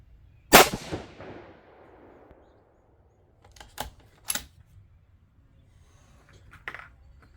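A single 6.5 Creedmoor rifle fitted with an EC tuner fires one sharp, loud report that decays over a second, followed by faint clicks and clacks of handling the rifle.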